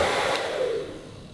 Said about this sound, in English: Well, I got a hairdryer.